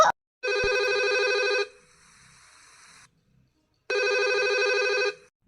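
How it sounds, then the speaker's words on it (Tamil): A telephone rings twice, each ring a long electronic trill of over a second separated by a pause of about two seconds, heard clearly in a quiet room. "இருங்க ஃபோன் ரிங் போகுது"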